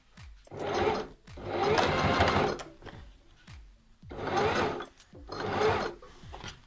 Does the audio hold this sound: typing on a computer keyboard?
no